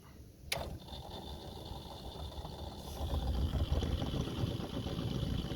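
An oil pump starts with a sharp click when power is switched on, then runs with a steady whining electric hum and a rising mechanical drone that grows louder and rougher, as if the pump is failing.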